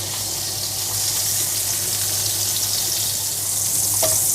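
Margarine sizzles steadily as it melts in a hot frying pan, a soft continuous crackle with no talking.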